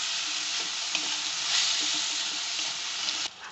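Onion masala frying in a pan for potato bonda filling, a bright steady sizzle under occasional soft scrapes of stirring, close and continuous with no voices.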